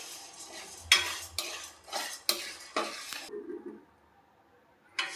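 Moong dal for halwa is stirred and roasted on a low flame, with a spoon scraping the pan in repeated short strokes, a quiet sizzle underneath and a brief pause before the stirring resumes.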